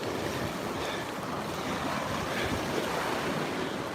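Ocean surf on a beach at Fort Pierce, Florida, a continuous, fairly loud rush of breaking waves mixed with wind buffeting the microphone, with no voices.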